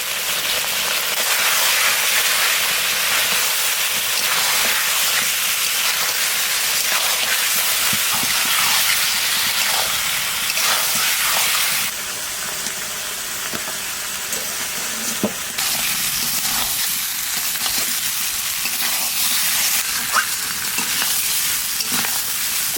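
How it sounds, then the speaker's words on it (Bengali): Chicken pieces with chilli paste, salt and turmeric being stir-fried in a pan for a country-chicken curry, a steady close sizzle with scraping and stirring throughout, loud and unbroken, no talk. "মাংসের সাথে মশলাটা ভালো করে কষা নিছি"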